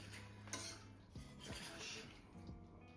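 Metal spoon stirring thickened gravy in a pan, with soft scraping and a few sharp clinks against the metal, close and fairly quiet over faint background hiss.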